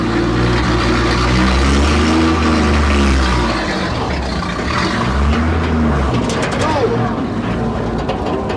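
A 1946 International truck engine revs in steady, loud bursts with rising and falling pitch, idling rough between pulls, close by; speech is detected.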